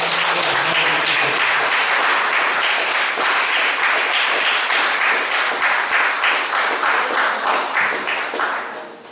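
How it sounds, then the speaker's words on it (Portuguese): A church congregation applauding in praise, a loud, dense burst of many hands clapping that holds steady for several seconds, then thins and fades out. "As palmas louvam ao Senhor."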